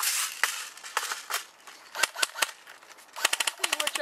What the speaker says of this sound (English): Mag out!